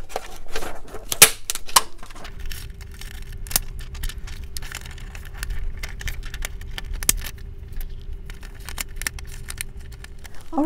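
A handheld craft punch cuts through paper in a series of sharp clicks and snaps, with a faint steady hum running in the background.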